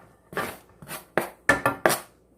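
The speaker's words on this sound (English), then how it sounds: "So I'm going to cut this just as small as possible and then show you." Knife chopping a pepper into small pieces on a cutting board while making homemade tomato sauce: five sharp, separate chops in an uneven rhythm, close and clear, with no talking.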